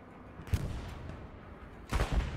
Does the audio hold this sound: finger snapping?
no